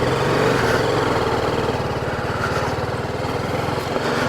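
A motorbike engine idling steadily after a morning warm-up, with a close, even mechanical thrum and a regular rhythmic pulse held throughout.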